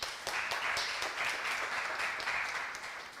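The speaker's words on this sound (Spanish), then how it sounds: "para quien también pido un aplauso" Audience applause for professor Rosa Guisado at a lecture on communication theory, a dense, even patter of many hands clapping continuously at moderate distance.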